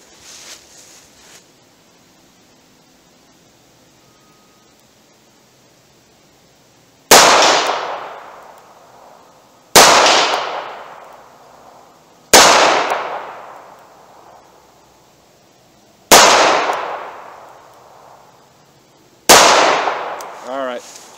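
Five sharp, loud gunshots from a snub-nosed revolver firing wadcutter lead bullets at an outdoor target, each crack followed by a decaying echo, spaced a few seconds apart after a quiet opening.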